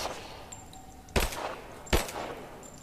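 Two sharp, loud gunshots in Rise of the Tomb Raider ring out about a second apart, each with a short echoing tail, against a quiet game ambience without speech.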